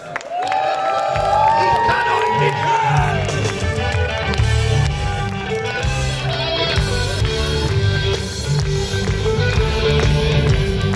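At a carnival session opening in Lage, Germany, a crowd claps and cheers loudly while stage music with a steady beat starts up and continues underneath.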